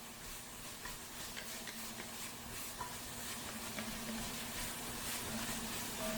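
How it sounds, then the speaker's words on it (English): Black pepper, dried oregano and dried basil are stirred into sweating vegetables in a hot pan, a steady low sizzle and hiss with faint scraping of a utensil, fairly quiet throughout. "add our black pepper, our dried oregano, and our dried basil, and really stir these into the veggies really well"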